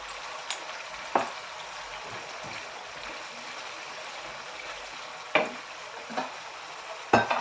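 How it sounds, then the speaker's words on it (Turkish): Ingredients being sautéed in a pan for meatballs with mashed potatoes, a soft steady sizzle with a few sharp utensil taps and scrapes, close and without talk. "kavuruyoruz"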